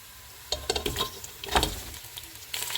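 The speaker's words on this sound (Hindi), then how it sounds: "प्याज फ्राई हो गए हैं, इसमें पाए डालेंगे।" Mutton trotters dropped into golden fried onions in a hot pan, bringing crackling sizzle bursts and stirring scrapes that flare up and settle, close by.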